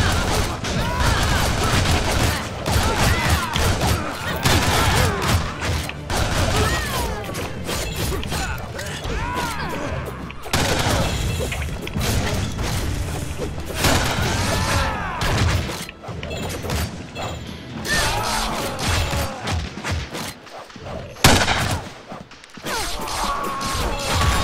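Dense, continuous gunfire and crashing impacts fill a chaotic fight in the co-op video game Shank 2, with rapid bursts, clanks and thuds layered together at a loud, steady level and little pause.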